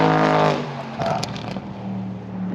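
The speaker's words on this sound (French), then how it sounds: "Donc c'est un V8 biturbo les amis" Audi RS6 C7 with a 700 hp twin-turbo V8, drifting: a loud engine roar that drops off after half a second, followed by rough scraping and tyre noise under a steady lower drone.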